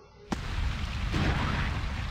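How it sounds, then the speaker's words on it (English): A sudden burst opens a sustained rumbling explosion effect in the Sonic Adventure DX video game, loud and close and continuing as a dense roar without talk. "A really weird explosion sound effect."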